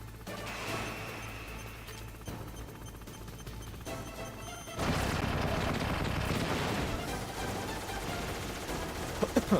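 Gunfire and explosive crashes in the Metal Gear Solid video game played on PS5, a muffled rumbling stretch giving way to louder, denser impacts with a few sharp bursts at the end.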